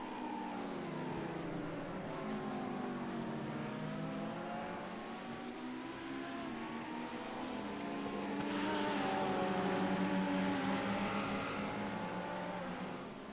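Ferrari 488 GT3 Evo race cars in a racing video game at Spa roar steadily with rising and falling engine notes, several cars close together, growing louder toward the end.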